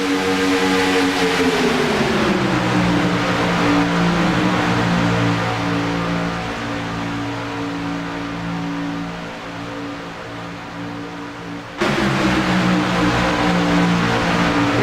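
Race cars roar around the track at a KMA racing event, a sustained loud engine drone with shifting pitch as the pack runs laps, briefly easing before surging again near the end.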